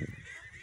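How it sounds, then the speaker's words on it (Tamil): Ducks at a lake used for duck farming, which holds about 2000 birds, give a brief nasal honking call nearby that lasts under a second over a soft outdoor background. "இதில் வந்து வாத்துகள் சிறப்பாக வளர்க்குறாங்க."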